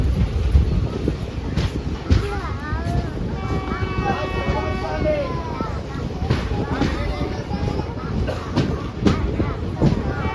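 The Sabari Express rumbles steadily at speed near Nadikudi junction, with rattling, clattering carriages and wind noise, while people talk over it throughout.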